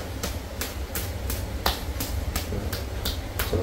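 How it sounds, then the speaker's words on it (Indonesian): Quick, rhythmic pats of hands on the front thigh muscles before a massage, about three slaps per second, fairly close, over a steady low background hum. "kita berikan tepuk-tepuk dulu di area mulai dari paha depan seperti ini"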